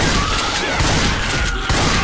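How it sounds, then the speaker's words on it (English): Shotgun fire in Left 4 Dead 2 comes as loud, rapid booming blasts in a dense burst of gunfire, close and heavy, with a couple of stronger hits standing out. "Let's see if we can do this with this shotgun."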